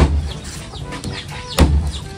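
Chickens on a Filipino backyard farm cluck in short, repeated bursts at close range, with one louder squawk near the end and a steady low rumble beneath.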